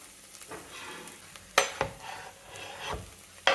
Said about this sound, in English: we're gonna go in with the garlic now